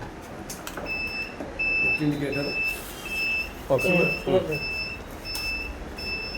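A vehicle's left turn indicator ticking in a steady, regular series of sharp electronic beeps, with people talking nearby over it.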